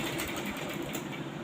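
A sewing machine runs slowly while stitching the neckline of a lined four-tuck blouse, giving a brief, even mechanical hum heard close and alone.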